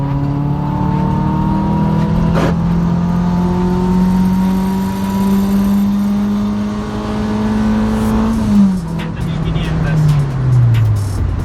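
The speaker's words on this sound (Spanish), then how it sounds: "Pisamos el acelerador a fondo, tercer cambio." Mitsubishi Lancer turbo accelerating hard at full throttle in third gear, its engine note climbing steadily and loud from inside the car, then dropping as the revs fall and the car begins to slow near the end.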